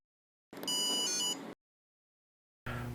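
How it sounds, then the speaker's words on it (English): A single electronic beep from a receiver, signaling it is ready to pair with a handheld transmitter, rings out clearly for about a second, followed by silence and then the start of another sound. "A single beep will be heard indicating the receiver is ready to be paired with the transmitter"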